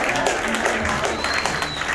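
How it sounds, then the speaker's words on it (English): Guests clapping at a credit union's post-holiday company dinner, a steady patter of applause from a modest indoor crowd, fairly soft and even throughout. "So we gotta give a round of applause."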